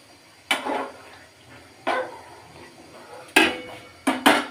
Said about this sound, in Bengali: এখন আমি পানি দিয়ে দিব পরিমাণ মতো